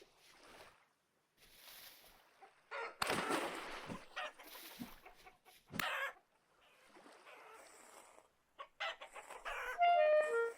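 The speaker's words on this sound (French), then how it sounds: "des poules, des poules, des poules" Chickens in the game Vintage Story cluck in short bursts with gaps between them, some clucks louder and closer, plus a few synthetic chime tones near the end.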